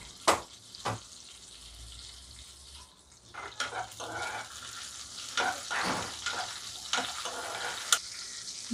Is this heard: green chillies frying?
yes